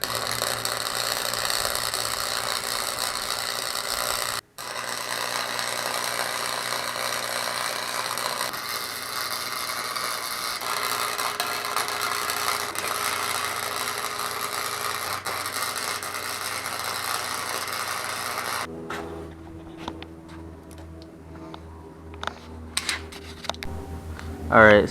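Welding on a mini bike exhaust: a loud, continuous crackling hiss that runs for about eighteen seconds with one brief break, then stops, leaving scattered faint clicks and handling noise.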